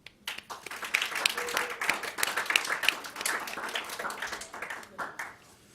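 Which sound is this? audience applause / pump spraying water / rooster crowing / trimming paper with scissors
audience applause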